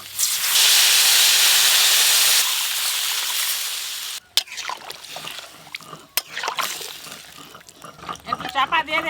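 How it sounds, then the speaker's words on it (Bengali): Vegetables for a light fish curry boil in a covered pot, giving a loud, steady steam hiss for several seconds before it drops to clatter, lid knocks and brief voices. "হ্যাঁ একটু চাপা দিয়ে সেদ্ধ করে নেবো"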